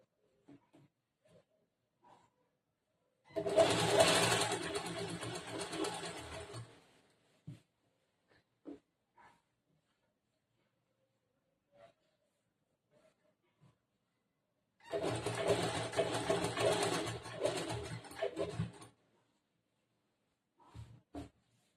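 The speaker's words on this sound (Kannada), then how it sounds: "ಇಲ್ಲಿಂದ ಸ್ಟಿಚಿಂಗ್ ನ ಸ್ಟಾರ್ಟ್ ಮಾಡ್ತೀನಿ" Sewing machine stitching an A-line kurta, running in two separate bursts of about three to four seconds each, with quiet gaps and faint handling clicks between them.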